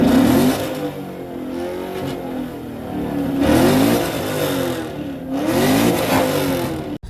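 A 2019 Chevrolet Camaro engine revs hard at a CamaroCon gathering in Las Vegas, with three loud rising-and-falling pulls separated by lower idle stretches, close and strong.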